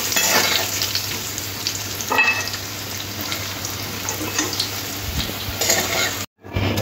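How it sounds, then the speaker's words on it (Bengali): Potatoes frying in oil in a pan for a spicy katla fish curry, a steady close sizzle with occasional stirring scrapes throughout, briefly cut off near the end. "আলুগুলো ভাজা হয়ে গেলে এবারে উঠিয়ে নেব।"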